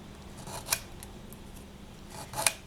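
Coarse 40 grit sandpaper scratched across polymer clay to texture earrings; two short, sharp rasping strokes stand out against a quiet background, about two seconds apart, with no talking.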